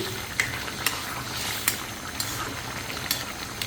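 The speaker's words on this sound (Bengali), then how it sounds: "রান্না হওয়ার জন্য আমি মাছগুলো আবারও নাড়াচাড়া করে দিচ্ছি" Koi fish cooking in a pan are stirred and turned, with quiet repeated scraping clicks at a steady rhythm over a low sizzling bed, no talk.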